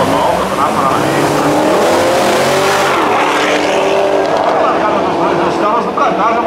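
A yellow Chevrolet Camaro SS launches in a dirt drag race, its loud engine roaring and revving continuously with tire noise, while an announcer talks over it.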